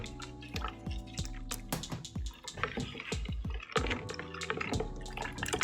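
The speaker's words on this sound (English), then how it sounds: "So we are going to add the powdered milk into the hot water" Powdered milk being stirred into hot water, a run of close wet clinks, drips and sloshing spoon strokes against the container in an irregular rhythm, fairly quiet and with no talking.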